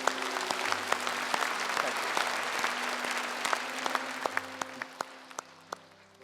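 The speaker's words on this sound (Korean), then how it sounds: "주님께 영광의 박수를" A church congregation applauds after a sermon on the Apostles' Creed, steady dense clapping at moderate distance with a low sustained organ or keyboard tone underneath, individual claps growing more distinct as the applause thins toward the end.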